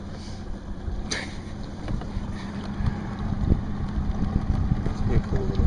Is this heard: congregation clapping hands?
no